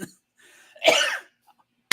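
A single harsh cough near the mic, followed by quiet and then the start of another cough at the very end.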